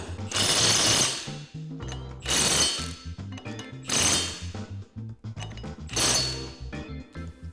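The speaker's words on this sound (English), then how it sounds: "This impact will go well above that" An impact wrench drives a 41mm socket on a Polaris RZR portal gear lift hub in four loud, buzzing bursts of about a second each, separated by short pauses filled with a low mechanical hum.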